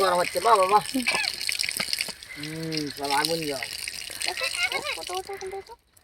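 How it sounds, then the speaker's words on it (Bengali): Tap water runs from a pipe at home in a steady broadband rush, while voices, including a child's, talk over it almost throughout. "খানিকক্ষণ গরম হয়ে কলার জলটা পড়বে তারপর এইবার ঠিক আছে পাইপের জলটা থাকলে ঠান্ডা থাকবে"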